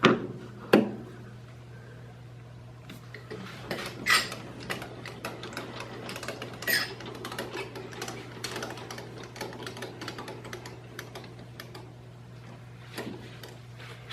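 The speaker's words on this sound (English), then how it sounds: "Now we'll switch out to our boring bar and start removing material from the inside." A lathe boring bar cuts the inside of a muzzle brake, giving a steady low motor hum under scattered quiet ticks and clicks that come in uneven clusters.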